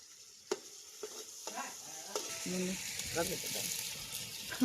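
Mutton pieces stirred in a pan with tomatoes and ginger paste: a soft, continuous sizzle with scraping, stirring strokes that grow gradually louder, close by.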